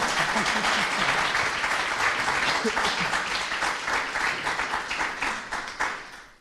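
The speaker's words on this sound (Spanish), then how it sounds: "Ahora sí les podéis dar un aplauso." Live audience applauding podcast guests at a season-finale recording on myths and legends of Castilla-La Mancha, a dense burst of clapping and cheers that gradually thins and fades out.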